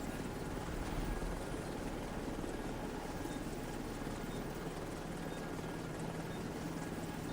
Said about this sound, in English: Helo at the extraction zone.